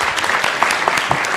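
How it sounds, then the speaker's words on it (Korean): Short burst of dense applause from a forum audience in a hall, loud and steady, with a few louder claps standing out. "박수 한 번 더 보내주시기 바랍니다"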